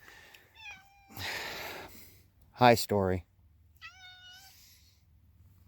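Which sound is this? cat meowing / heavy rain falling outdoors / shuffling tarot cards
cat meowing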